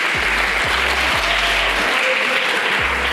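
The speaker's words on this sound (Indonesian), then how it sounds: "Tepuk tangan buat OpenSUSE ID." A crowd at an openSUSE Indonesia Linux community event applauds with loud, dense clapping that stays steady from start to finish.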